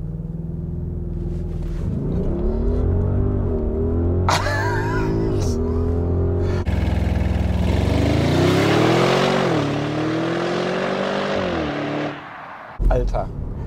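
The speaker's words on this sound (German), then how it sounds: "Ich kann die sehr gut immer mit einem Launch Control Start beginnen." A 2021 Audi RS Q8 with 600 PS performs a launch control start, the engine rumbling loud and close, then revving hard through rising gear pulls during acceleration, heard from inside the cabin with a brief exclamation from the driver.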